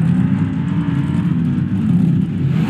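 A zombie monster truck in the BeamNG Drive racing game, its engine giving a loud, steady low rumble close by, sustained without break.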